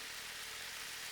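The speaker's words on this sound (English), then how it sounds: "I don't know if you can hear that noise in the background. Lawnmowers are running." Lawnmowers run in the background outdoors during shrimp cooking on a Blackstone griddle, a faint steady engine drone with broadband hiss and no talk over it.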